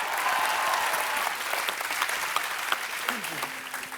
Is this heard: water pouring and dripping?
no